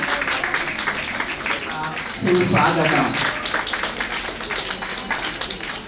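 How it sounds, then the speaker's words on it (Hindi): Audience applause welcoming the chief guest at a 2022 honour ceremony, a dense, steady crowd clapping that swells louder about two seconds in and continues under a background voice. "आप सभी से चाहूंगी प्लीज तालियां बजा दीजिएगा"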